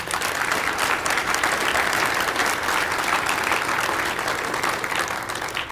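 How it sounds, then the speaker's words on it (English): Audience applause at a city's State of the City address, steady, dense clapping from a large indoor crowd, sustained evenly for several seconds without voices. "let's give Kelly a round of applause"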